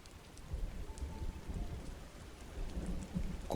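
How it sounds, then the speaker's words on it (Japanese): Heavy rain pours down steadily as a dense, even hiss with a low rumbling undertone, constant throughout and without voices. "大粒の雨がざーっと降って"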